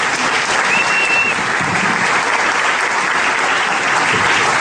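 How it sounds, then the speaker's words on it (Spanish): Loud, sustained applause from an audience for a doctor at a scientific presentation, dense clapping filling the whole stretch without a break. "vamos a darle un fuerte aplauso al doctor Juan Carlos Rojas"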